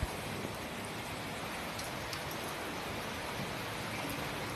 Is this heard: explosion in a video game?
no